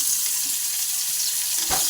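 Steady hissing sizzle of Bengal fish frying in hot oil, constant and close, with a brief clatter near the end.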